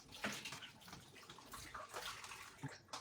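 Water runs steadily from a tap while a dish is scrubbed with a heavy-duty dish wand in a sink, a continuous close splashing with brief louder gushes.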